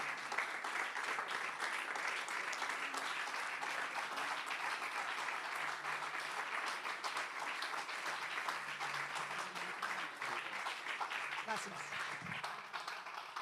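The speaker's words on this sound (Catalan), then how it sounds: "Vinga, aplaudiu!" Audience applause at a formal public event in Catalonia, dense and sustained clapping filling the whole stretch at steady strength, with a voice speaking briefly over it near the end.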